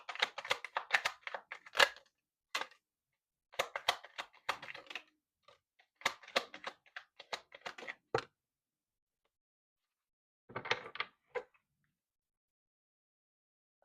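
Tarot cards are shuffled and drawn, producing close, crisp bursts of flicking and snapping card sounds separated by quiet gaps.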